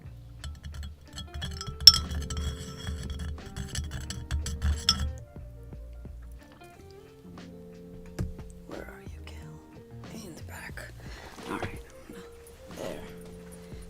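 Cups and cutlery clink and clatter faintly while tea is fetched indoors, scattered light chinks spread across the scene, with a person murmuring softly nearby and low background hum.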